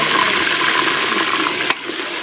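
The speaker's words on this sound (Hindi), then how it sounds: "प्याज ब्राउन हो चुकी है, अब मैं इसमें डाल दूँगी लहसुन का पेस्ट।" Garlic paste goes into browned onions frying in a pan, giving a loud, steady sizzle close by that continues throughout, broken once by a brief knock near the end, with no voices.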